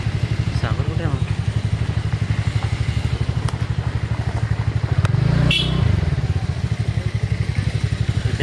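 A motorcycle engine idles nearby with a steady, rapid, low thumping pulse throughout, swelling briefly midway. Voices can be heard faintly over it.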